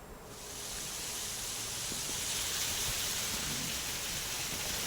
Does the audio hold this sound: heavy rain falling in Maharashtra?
yes